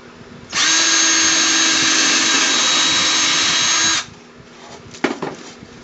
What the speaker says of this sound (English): Yes, I'm drilling into a bucket